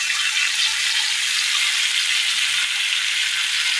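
Mustard seeds sizzle and crackle steadily in hot oil for a Kerala steamed snack, a loud, close, continuous frying hiss with no talking.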